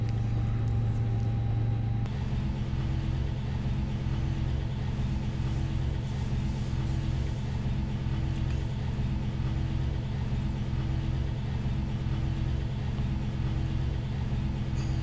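Pushback tug engine from a Prepar3D ground services pack, a low, steady idling rumble that runs continuously at moderate level, with a brief tonal hum at the start before the drone settles.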